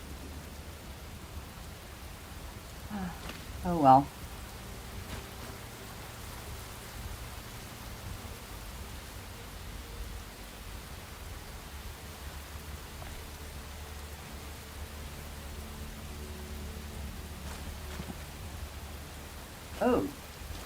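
Steady soft rain hiss from the video game Enshrouded fills the background, with a brief spoken remark and a couple of short louder bursts.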